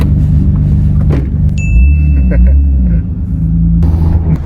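A Toyota Supra drives along, its engine rumbling loud and close from inside the car, with a brief high whine partway through and some talk.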